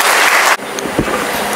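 Audience clapping in a hall, a dense burst of applause that cuts off abruptly partway through, followed by quieter room noise.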